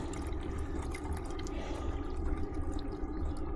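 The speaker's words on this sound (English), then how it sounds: "So I'm going to put half a litre in this." Half a litre of liquid being poured into a plastic container while mixing a wheel-cleaning solution for brake dust, a steady, quiet, continuous splashing pour with faint drips, and no voices.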